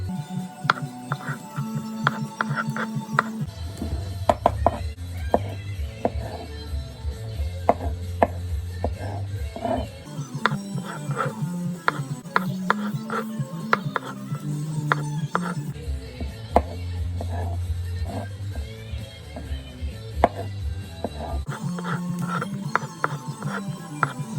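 Knife chopping boiled potatoes on a cutting board for vegan potato salad, close repeated taps and thuds in irregular bursts, with soft handling noises between.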